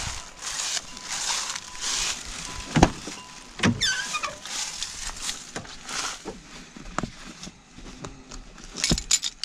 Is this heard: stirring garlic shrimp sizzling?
no